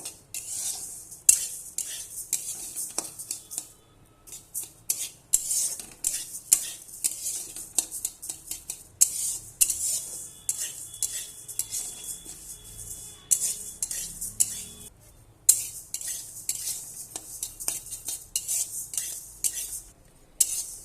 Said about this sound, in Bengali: মুগ ডালটা ভেজে নেব ভালো করে